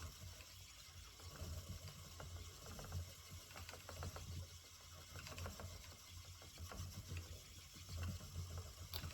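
A spinning wheel turning while hand painted roving is spun, a faint, steady rhythmic whirring and clicking of the treadle mechanism, quiet and close, with no voices.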